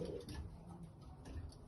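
Pigeons coo softly in low, rounded murmurs at a loft, faint and repeated against quiet background noise.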